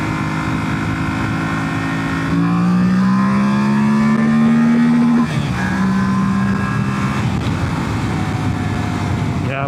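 A 2025 Yamaha Ténéré 700 with stock exhaust and airbox is held against its rev limiter, giving a loud, close, steady engine drone whose pitch creeps up, drops briefly and then holds again.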